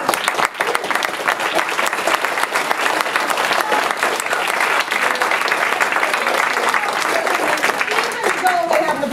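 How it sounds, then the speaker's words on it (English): An audience applauds a political humor panel, with continuous, loud clapping filling the whole stretch and some crowd voices mixed underneath. "I want to give them a round of applause"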